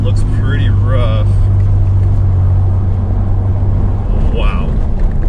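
A car fitted with Rough Country Vertex coilovers rolls over uneven asphalt, with a loud low road and engine rumble throughout from inside the cabin and brief bursts of voice over it.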